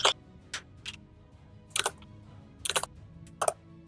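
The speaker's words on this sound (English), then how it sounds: "that's not slurping, it's the keyboard" Keyboard keys clattering in short clustered bursts, a few quick presses at a time with brief pauses, fairly close and crisp against quiet background noise.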